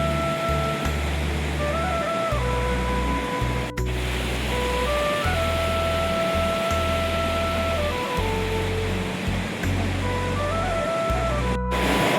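River water rushes steadily where the Alaknanda and Mandakini rivers meet at Rudraprayag, a broad, continuous roar close by. Sustained musical tones run over it, shifting pitch from time to time, and no one speaks.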